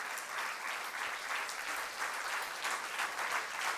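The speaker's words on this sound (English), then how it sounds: "Let us give a big round of applause to Sister Seema." A seated audience at a talk claps in a steady, even wash for Sister Seema. The crowd applause is fairly quiet and distant and sustains throughout, with no talking over it.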